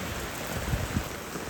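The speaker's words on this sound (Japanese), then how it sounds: "雨が本当に強いですね。" Heavy rain pours onto a town street, a dense continuous hiss with a few heavier splashing bursts, loud and close with no voices.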